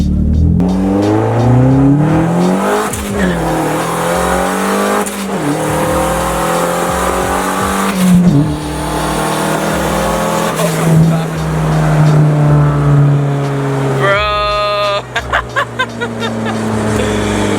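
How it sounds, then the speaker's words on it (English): A loud, raw straight-piped turbo Mazda Miata exhaust roars and revs through several gear changes, with crackles and a fluttering pop near the end; voices talk underneath. "this loud exhaust. Is it just straight pipe? I think it's just like fully straight pipe."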